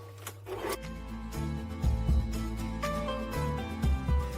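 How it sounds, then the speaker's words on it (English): Eggs and erythritol being whisked for a flourless keto cherry cake, heard as close, fairly quiet scraping and rhythmic tapping strokes against a bowl, with no voices. "Now we start whisking."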